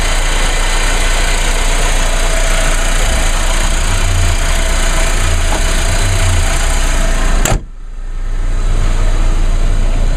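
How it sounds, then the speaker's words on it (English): A small car engine idles steadily nearby with a low rumbling hum, cutting out abruptly near the end before the rumble returns. "with this little engine, it does put out a good amount of power"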